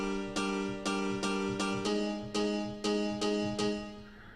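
A repeated plucked or struck musical note sounds about eight times at a steady pace, each strike ringing out with a wide, spacious tail.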